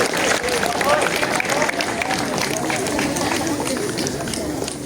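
An audience applauds at a National Education Day school ceremony at MAN 4 Kebumen, a dense, continuous wash of many hands clapping that stays loud and even throughout, with crowd murmur mixed in.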